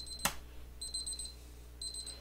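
A third-party alarm on a hot plate used for drying phone boards beeps in two short bursts of rapid high-pitched tones, preceded by a sharp click, over a low steady hum.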